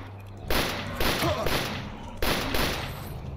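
Gunfire in STALKER Anomaly: three or four heavy, booming shots spaced about half a second to a second apart, each followed by a long, rolling echo tail.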